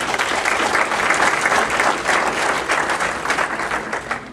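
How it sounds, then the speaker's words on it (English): Audience at a school board meeting applauds steadily for several seconds, a dense even wash of clapping hands with no speech on top. "would you please applaud them for that?"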